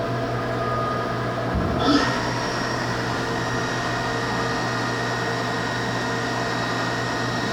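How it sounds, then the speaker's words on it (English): A Haas VF2 vertical machining center spindle runs at steady speed, a constant tonal whine and hum after a brief clunk as it starts, with no talk over it. "we're going to run the spindle for you"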